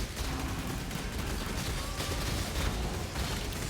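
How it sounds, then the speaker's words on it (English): Explosions and combat in the video game Path of Exile form a dense, continuous crackling barrage of blasts and bursts, loud and busy throughout. "Another explosion, and we are good to go."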